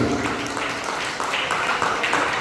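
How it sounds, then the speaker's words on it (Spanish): Church congregation clapping hard for Jesus during an evangelical service, a steady loud burst of many hands with voices mixed in. "Fuerte los aplausos a Jesús."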